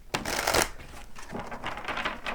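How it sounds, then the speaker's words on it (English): A deck of tarot cards riffled and shuffled by hand up close, two quick bursts of crisp papery flutter with a short pause between, no talking. "I always like to shuffle them on camera"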